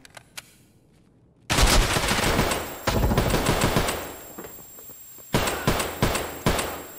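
Bursts of rapid gunfire from Escape from Tarkov, an SVD sniper rifle in play: a sharp volley starts after a quiet moment, a second cracks in, then several close, loud bursts follow near the end.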